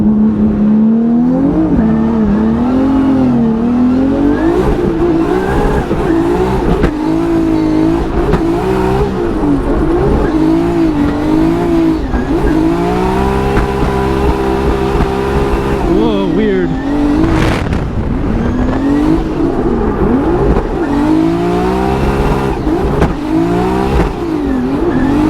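2JZ-swapped BMW E36 drift car roars around Irwindale, engine revving up and down continuously, loud and close with occasional tire squeal, while the driver talks over it.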